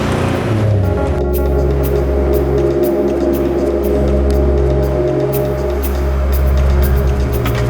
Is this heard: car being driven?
yes